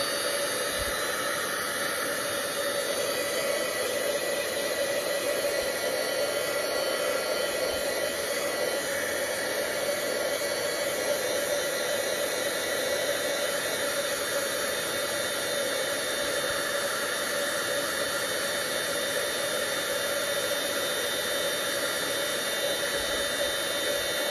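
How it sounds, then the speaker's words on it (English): A heat tool blows a steady, even hiss of hot air across stamped ink on translucent vellum, a constant close whoosh lasting the whole stretch with no pauses. "very lightly turn your heat tool on and dry it"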